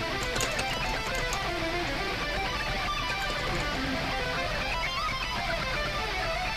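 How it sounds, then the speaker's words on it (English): Two electric guitars play lead lines in harmony, doubled left and right, over a dense, driving band mix of a video game battle theme, loud and continuous. "it's harmonized with a second electric guitar"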